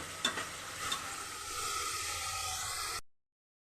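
Chopped tomatoes sauté in a pan for masale bhat, a steady close sizzle with a couple of spoon scrapes at the start, then cutting off abruptly.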